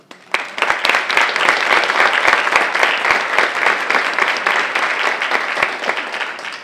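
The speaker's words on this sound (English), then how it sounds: "you deserve a round of applause" Loud, close audience applause at a school spelling bee honouring student spellers, bursting in sharply and continuing as dense, even clapping with a few distinct near claps standing out.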